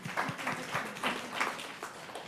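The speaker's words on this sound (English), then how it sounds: "Give yourself a round of applause" A small group of election worker training attendees clapping, with a quiet, uneven patter of claps rising and falling in soft bursts in an indoor room.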